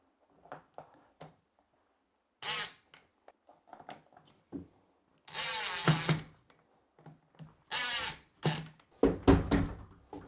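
A screwdriver drives screws into the track of a sliding bypass closet door, giving several short whirring bursts separated by pauses with small knocks and clicks in between.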